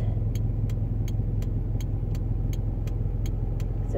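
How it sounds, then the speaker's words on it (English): Cars on a road through Northam town, a steady low engine and tyre rumble filling the whole stretch without a clear single pass-by, with a faint regular ticking like an indicator over the top. "we are going to let these cars pass"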